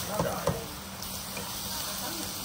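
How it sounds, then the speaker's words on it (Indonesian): Vegetables frying in a pan during simple outdoor home cooking, a steady soft sizzle and hiss with a couple of brief clinks near the start, moderately quiet and close. "Jangan simpan air dulu, kita goreng je macam ni dulu"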